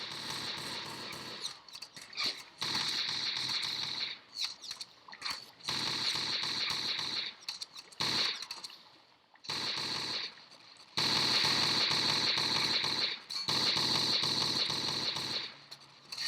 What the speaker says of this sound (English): Hey, an actually accurate assault rifle.